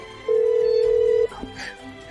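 A single steady electronic tone sounds for about one second, loud and even like a phone ring or ringback on an unanswered call, then stops, leaving quiet room noise.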